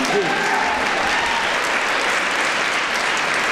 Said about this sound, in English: You can go ahead and clap that time, too.